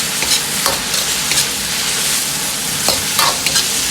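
Celtuce (wosun) stir-fried over high heat in a wok gives a loud, dense, continuous sizzle, with scraping tosses of the spatula every second or so.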